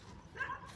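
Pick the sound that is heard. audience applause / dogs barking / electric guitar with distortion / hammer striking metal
dogs barking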